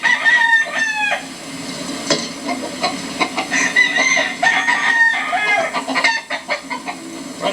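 An older rooster being handled on a soft surface lets out repeated harmonic clucks and short crowing calls, close and fairly loud, with rustling in between and no talking.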